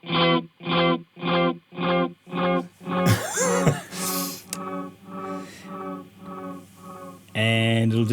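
Keeley Mesmer Astral Delay pedal on an electric guitar, its feedback rising: a steady run of rhythmic repeating notes, then a swelling wash of modulated, overlapping echoes and a loud sustained chord at the end.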